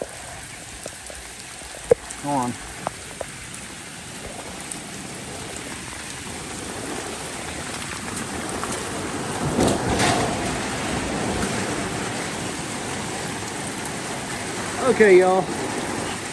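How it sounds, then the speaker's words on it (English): Heavy rain pours down on a small metal shed behind a chicken coop, a steady dense hiss that swells in the second half, with a few brief spoken words and small knocks. "It is raining so dang hard."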